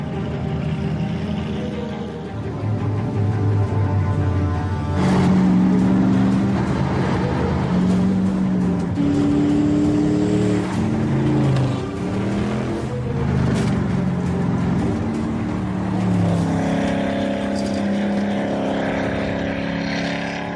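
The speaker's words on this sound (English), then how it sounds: "while a prospective owner takes the car for a spin" A Gumpert Apollo sports car is driven hard, its loud engine revving up and down through gears for about twenty seconds, close and continuous with no talking.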